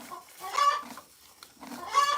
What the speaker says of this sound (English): Oh, the chicken is driving me nuts.